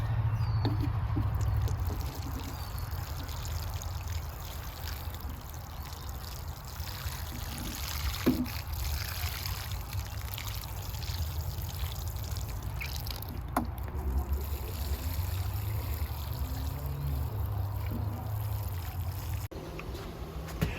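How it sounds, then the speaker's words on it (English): Water poured steadily from a watering can onto newly planted container pots in a garden, a soft continuous trickle and splash, faint and alone. "And we'll give them a water in."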